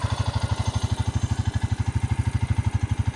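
A 14-year-old Honda Rancher ATV idles close by, its engine making a rapid, even, low-pitched chugging pulse through a quiet exhaust, with no voices over it.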